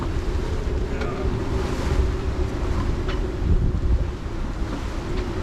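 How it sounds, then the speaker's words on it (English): A strong gust of wind roars across a classic sailboat at sea, a loud, continuous buffeting rush mixed with waves and hull noise that swells midway before easing slightly. "Oh, there's a gust."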